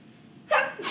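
A single sudden sneeze bursts out partway through a college math lecture, loud and close after a stretch of quiet room tone, followed by a short breathy tail.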